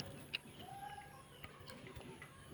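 Pigeons in a coop give soft, low cooing, faint and intermittent against a light background hum, with a sharp knock at the very end.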